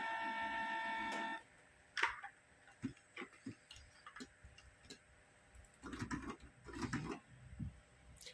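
An old Canon inkjet printer left unused for a long time starts up: a steady mechanical whir runs for the first second and a half, then irregular clicks, ticks and short motor bursts from the carriage moving, close and moderately loud.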